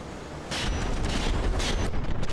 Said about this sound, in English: Bam, we had a pretty big explosion.